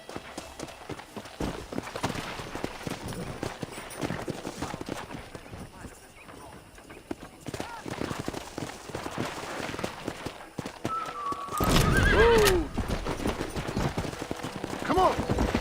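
Horses in the Red Dead Redemption video game, with hooves clip-clopping steadily under voices and gunfire, and a single sharp whinny rising near the end.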